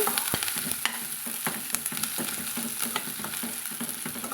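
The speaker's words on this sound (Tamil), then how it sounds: "இப்போ நம்ம நல்லா கலந்துட்டுக்கலாங்க" Shallots and curry leaves sizzle in hot oil in a pan for Pallipalayam chicken, with steady frying hiss and repeated scraping stirs of a spoon against the pan, close up and with no talk.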